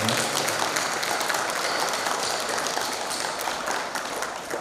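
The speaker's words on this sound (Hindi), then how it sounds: "उनके लिए भी तालियों से स्वागत करें।" An audience at an outdoor International Yoga Day celebration claps steadily to welcome an arriving guest, a dense, sustained round of applause that tapers slightly toward the end, with some voices mixed in.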